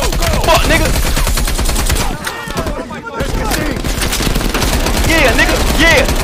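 Rapid video game gunfire crackles in dense automatic bursts, loud and nearly continuous with a short lull midway, as excited voices shout over the shooting.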